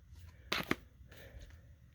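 Yu-Gi-Oh trading cards being flipped through by hand, a couple of soft, quick papery snaps over faint room hiss, fairly quiet and close.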